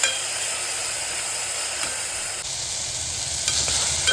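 Radish curry cooking in a pan while being stirred, a loud close hiss and sizzle with scraping, clattering spoon movements breaking through now and then.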